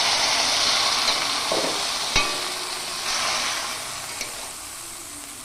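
Water poured into a pan of frying Thankuni leaves seasoned with salt and turmeric, producing a loud steady hiss and sizzle with a couple of brief clicks of a utensil, close and continuous, no voices.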